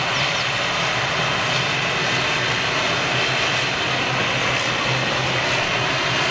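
A Cathay Pacific airliner under tow moves slowly across an airport apron at Manchester, giving a steady, broad aircraft rumble with a low droning hum throughout, fairly loud and continuous with no talking.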